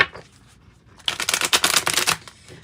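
A deck of tarot cards is shuffled by hand, a quick run of dense riffling flutters close up after a brief quiet start, with no talk over it.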